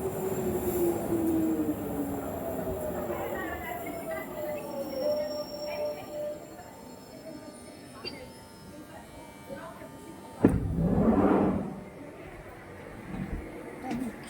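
A train on the last service home rumbles steadily, with rising and falling electric motor whines and a louder burst near the end, while a person talks.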